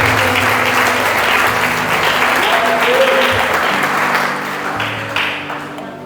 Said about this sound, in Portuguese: Dá uma salva de palmas em nome de Jesus.